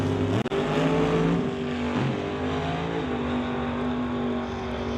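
A door slammer drag race car launches with its engine at a loud, sustained roar. The pitch shifts and wavers as the tires shake and the driver lifts off, heard up close without talk.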